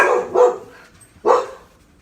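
Two sharp dog barks, close and loud, spaced about a second apart in a quiet indoor room with no talking.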